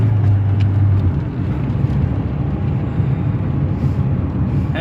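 A 2002 Saturn SL1 engine idling after repair work, a loud, steady low hum with no knocking, heard alone without talk.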